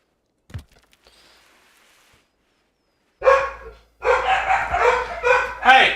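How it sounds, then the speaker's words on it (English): Dogs bark in loud bursts, with speech overlapping the barking through the second half. "Wouldn't be a stream without the dogs going crazy"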